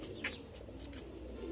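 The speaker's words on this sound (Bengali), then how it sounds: "তো এই কবুতর গুলো কিন্তু অনেক সুন্দর" Pigeons of a prized fancy breed coo softly in a loft, a low steady murmur running under a brief higher call near the start and a few faint chirps.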